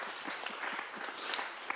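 Brief, moderately quiet applause from an audience at a sports panel discussion, a steady patter of many hands with no voices.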